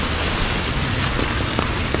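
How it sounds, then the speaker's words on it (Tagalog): Steady, dense rain hiss in Hong Kong fills the whole stretch, loud and close, with a few faint scattered taps over the constant wash. "It's raining in Hong Kong in our day 5"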